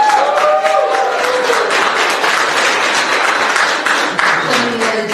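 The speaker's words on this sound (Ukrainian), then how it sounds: "І ваші оплески молодим." Guests at a wedding registration ceremony applaud the newlyweds, a loud, dense, steady burst of many hands clapping together for the whole few seconds, with no talking over it.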